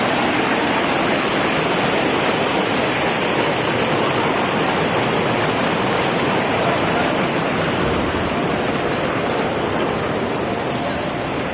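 Sipucot Falls, a waterfall where people bathe: a steady, loud broadband roar of falling water, continuous and unchanging, with no voices heard.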